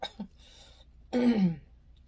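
A short throat clearing: a quick rough catch, a pause, then a louder, drawn-out rasping clear, close to the microphone.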